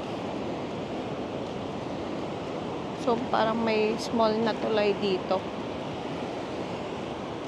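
Broadband ocean surf at Lamane Beach, where a river flows into the sea, rushes steadily and evenly throughout, with a voice speaking over it briefly in the middle.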